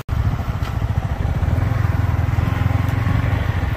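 A motorcycle engine drones steadily and loudly while riding through a dark place at night in wind and light rain, with a fast pulsing rumble throughout and no talk over it.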